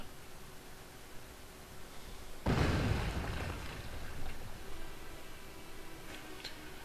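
An explosion somewhere inside a building in the Final Fantasy XIV video game: a sudden loud rumbling blast that decays over a couple of seconds, then fades into a low background hum.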